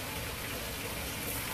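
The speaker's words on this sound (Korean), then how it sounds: "물소리가 왜 이렇게 크노?" Loud, steady running water gushes without pause in a fish shop, a dense continuous rush that fills the whole moment.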